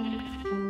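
A goat bleats in the Minecraft video game, one close wavering cry with steady harmonic tones lasting under a second, loud and alone.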